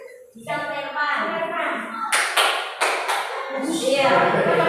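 Hand clapping in a group clapping exercise: several quick bursts of claps mid-clip, framed by spoken instructions before and after, with voices prominent throughout.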